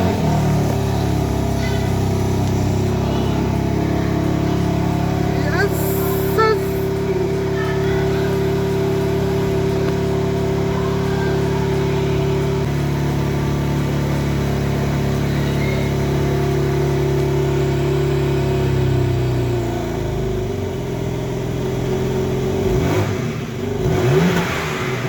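A new BMW M3 G80 with its exhaust valves open holds a steady, loud, close rumble with sustained revving that rises and settles, heard on its own with almost no talk.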